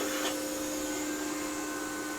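A power cutter slices a 3/8 inch TIG weld sample in half, giving a loud, steady, high whine that holds unbroken for the whole short clip.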